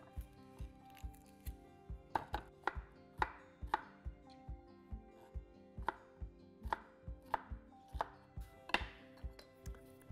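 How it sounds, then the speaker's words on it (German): Steady knife dicing bell pepper on a cutting board, crisp rhythmic strikes roughly twice per second, close and clear with no talking. "Zum Essen schneide ich Paprika. Entkernen und in Würfel schneiden."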